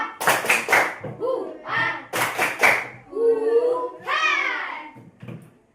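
Classroom of pupils performing a rhythmic spirit clap, sharp bursts of clapping in short patterned groups alternating with children's voices chanting and calling out.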